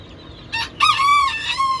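A five-month-old young rooster newly brought to the coop crows once, a close, loud strained call after a short preceding squawk, with no talking.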